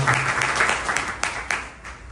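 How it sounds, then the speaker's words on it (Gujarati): Audience applause at a satsang honouring a revered guru, a steady wash of clapping from a crowd with a few sharper claps standing out near the end, filling the whole stretch without talk. "જોરદાર તાળીઓના ગણગણાટથી"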